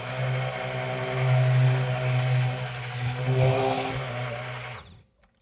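A blender motor mixing cold process soap batter whirs steadily at high speed, its hum rising slightly midway, then cuts off abruptly near the end.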